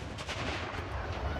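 A 105mm artillery gun fires during a live-fire exercise, a single heavy blast with a dense low rumble filling the short moment.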